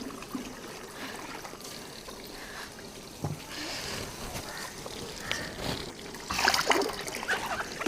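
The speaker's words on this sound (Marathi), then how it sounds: "तर एवढं पाणी प्रेशरने सुटले आता पाणी भरावं लागेल" Borewell water gushes out under pressure at a household tap, a steady splashing rush that swells louder and more spattering near the end.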